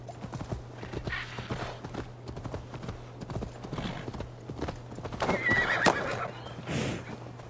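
A horse in the video game Assassin's Creed Valhalla whinnies loudly and close while its hooves clip-clop in a steady walking rhythm, over a low constant game hum.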